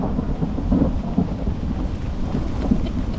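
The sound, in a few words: thunder during a storm with high winds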